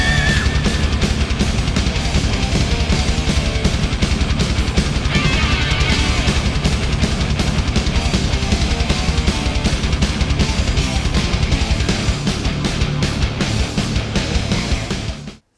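A heavy metal song, the opening track of its album, plays as a loud, dense full-band intro with driving drums and distorted guitars, steady throughout before cutting off at the end.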